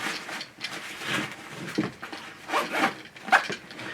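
Several short zipper pulls rasp up close on a 5.11 Tactical Rush MOAB 6 backpack pocket, a quick series of scratchy zips with brief pauses between them.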